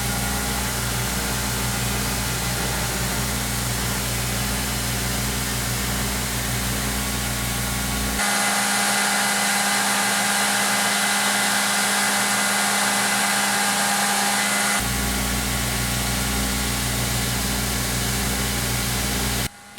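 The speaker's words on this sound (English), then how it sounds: "I did the roughing on my knife maker's belt grinder" A knife maker's belt grinder roughs down a wooden guitar neck, a loud continuous motor whine with a harsher abrasive rasp that intensifies for several seconds in the middle.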